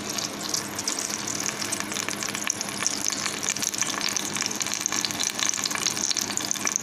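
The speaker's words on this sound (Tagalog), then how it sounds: "Sumasagit-sit na yung ating mantika." Cooking oil heating in a pan with a few drops of water in it, a constant dense crackling sizzle holding steady and close throughout, with no voices over it.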